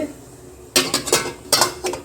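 Metal idli plates clatter and clink into place in a steamer pot over boiling water, a few sharp clanks in two quick bursts after a brief quiet start.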